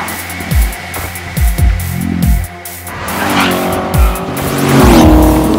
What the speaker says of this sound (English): while we enjoy the sights and sounds of Ferraris and Lamborghinis racing all around us